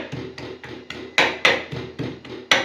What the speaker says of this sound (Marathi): लसूण मस्त असा हा ठेचून घ्यायचा